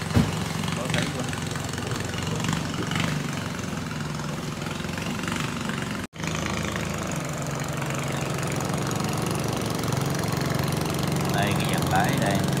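A 65 hp Yanmar 4JH inboard marine diesel engine on a 6 m boat runs with a steady, knocking idle throughout, with a brief cut partway and faint talk in the background.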